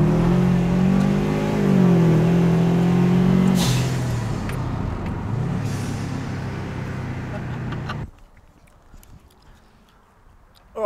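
A car engine revs hard and climbs through a full-throttle pull, loud and strained for several seconds, then drops away and cuts to near silence.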